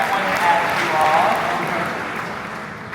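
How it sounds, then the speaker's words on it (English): Loud applause from a crowd, steady clapping that gradually fades, with a few cheers and whistles near the start. "can we give a hand and a round of applause for these two?"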